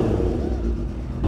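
A Kawasaki Ninja H2 motorcycle engine revs up close at a cars and coffee meet, a short throaty burst over a low rumble with voices nearby.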